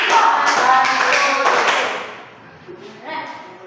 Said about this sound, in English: Let's give her 3 claps.